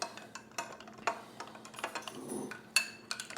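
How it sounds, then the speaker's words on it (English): A bar spoon stirs ice in a spherical glass for an Old Fashioned, giving sparse, irregular clinks and rattles against the glass, close and fairly quiet. "we're gonna go ahead and grab our little bar spoon and mix her on around"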